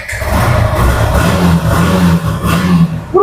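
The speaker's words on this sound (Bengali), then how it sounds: "একটু আওয়াজটা শুনিয়ে দাও" A used motorcycle at a budget bike showroom runs close by, its engine revving loudly in rising and falling surges with a mechanical clatter underneath.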